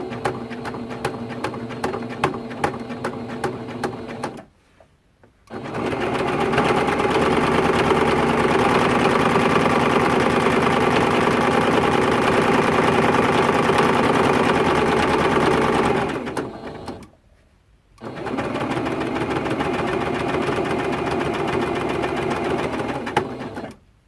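A sewing machine stitches T-shirt quilt seams in long steady runs of rapid mechanical whirring, pausing briefly twice between runs, loud and close with no talk.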